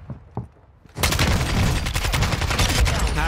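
Sustained automatic gunfire in a shooter video game erupts loudly after a second of quieter shuffling, dense rapid shots rattling on without pause for the rest of the moment.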